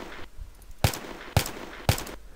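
Three punchy gunshot effect samples fire at an even, rhythmic pace, each a loud bassy crack with a short decaying tail over a low background hiss.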